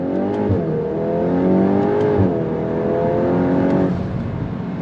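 A 2026 VW Golf R Mk 8.5 accelerates under throttle, its engine note rising in pitch through two gear changes, a loud, steady interior drone partly boosted through Harman Kardon speakers.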